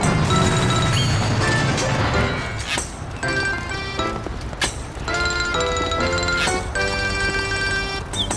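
An explosion goes off in the video game Mafia: several sharp, loud crashing bursts cut through ringing tones and a musical score.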